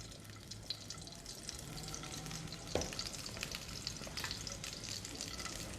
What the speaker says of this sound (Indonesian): yang kedua kita tumis bawang bombay